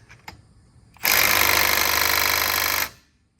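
A Milwaukee M12/M18 stubby impact wrench hammers in one loud, continuous rattling burst of about two seconds, preceded by faint clicks and ending abruptly into quiet.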